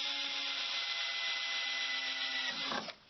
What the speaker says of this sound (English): Take a drill that's just one size bigger and go ahead and drill your pilot holes.